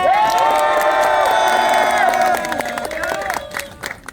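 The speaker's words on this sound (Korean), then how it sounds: "큰 박수 부탁드립니다" An audience cheers, whoops and claps for a speaker at a university campus gathering, loud and dense at first with high shouts layered over the clapping, then thinning out toward the end.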